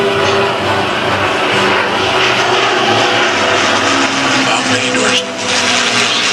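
A Merlin-engined aircraft flies past at an air show, its engine producing a loud, sustained droning roar that fills the air with a steady harmonic growl, dipping briefly before resuming.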